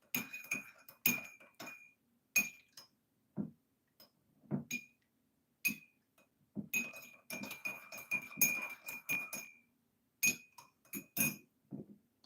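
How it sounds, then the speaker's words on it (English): A spoon stirring green tea in a cup, with bright repeated clinks against the rim coming in uneven bursts and short pauses, close and clear, with no talking. "Let me stir my tea."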